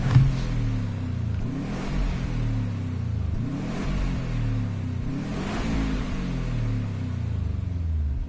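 Subaru Impreza engine in the racing game Gran Turismo Sport, revving repeatedly in rising sweeps with a steady mid-pitched rumble, loud and continuous throughout with no talk.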